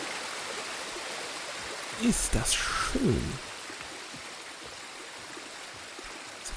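Steady rushing water from small waterfalls in a narrow gorge in the game Ghost of Tsushima hisses evenly throughout, while someone speaks briefly over it midway.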